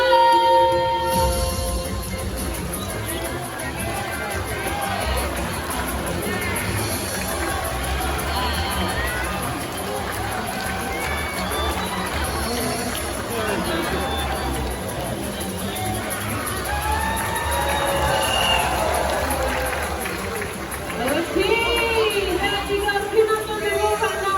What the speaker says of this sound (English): Come on, supporters. Keep on cheering.